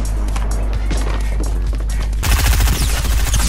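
Rapid gunfire from a Fortnite match, a dense loud burst of shots that grows harsher and busier midway through, with no talk over it.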